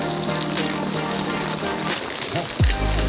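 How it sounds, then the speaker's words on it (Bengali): Heavy rain falls steadily on a waterlogged street, a broad continuous patter with water collecting, while a brief low rumble and faint background voices cut in near the end. "শুধু বৃষ্টি আর বৃষ্টি আর জল জমে"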